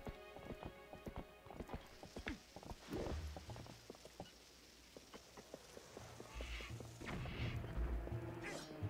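Horse hooves clip-clop and gallop in Zelda: Twilight Princess HD, a rapid rhythmic clatter of footfalls with game sound effects and a whinny-like cry, fairly loud throughout.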